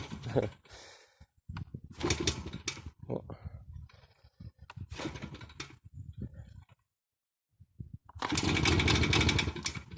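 A small two-stroke WSK 125 motorcycle engine with CDI ignition and a Dellorto 21 carburetor bursts into loud, raspy running near the end, after a stretch of talking and a brief silence.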